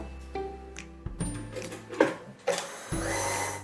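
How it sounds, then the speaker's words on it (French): An electric mixer whirs through cupcake batter as melted dark chocolate is worked in, its motor running in short bursts that start and stop, close and moderately loud. "j'ajoute mon chocolat noir fondu et ensuite je vais mélanger à nouveau jusqu'à ce qu'il soit bien incorporé dans ma préparation"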